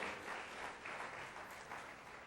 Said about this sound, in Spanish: Muchas gracias por darle esas palmas al Señor.